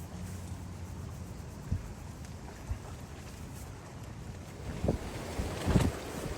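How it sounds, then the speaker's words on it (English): Gusty wind buffets the microphone in low rumbling bursts, strongest near the end, over a faint outdoor background. "really gusting now"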